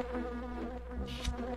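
Short burst of droning bee buzz from The Grinch for Dreamcast, steady and fairly close, with a brief game effect flaring near the end.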